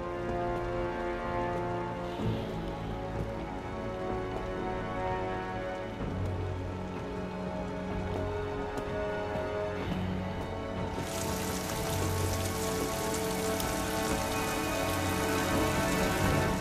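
Steady, heavy rain pouring down outdoors in Rise of the Tomb Raider, a continuous dense patter that grows brighter and more hissing partway through, with low tonal game music underneath.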